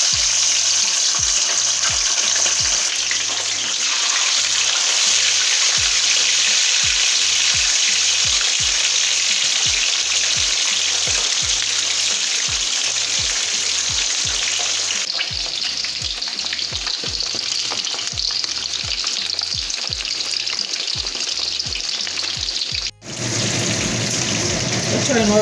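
Fish fries in hot oil with pepper and garlic, a steady loud sizzle filling the pan, broken by rhythmic stirring or scraping knocks and a brief clatter near the end.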